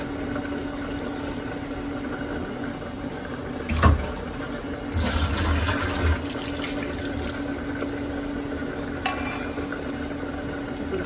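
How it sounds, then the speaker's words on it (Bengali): Broth poured over marinated fish pieces in a home kitchen, with a few brief splashing, pouring bursts against a steady background hum and no talking. "এখন আমি পরিমাণ মতো ঝোলটা দিয়ে দেবো।"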